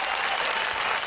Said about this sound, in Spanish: Dale un aplauso a ese policía de Puente Saavedra.